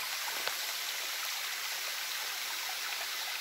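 Water from a stream at Las Ánimas waterfall rushes in a continuous broad hiss, steady and close, with no voices over it.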